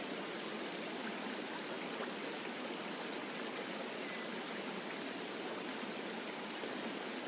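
Waterfall rushing as a steady, even wash of broadband water noise, soft and distant-sounding, unchanging throughout with no voices.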